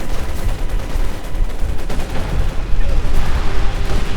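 Maxim machine gun fire from inside a church in Company of Heroes 2 battle, a dense continuous rattle of gunfire mixed with other combat noise under commentary.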